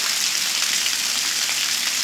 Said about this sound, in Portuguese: Chuva boa mesmo. Chuva grossa.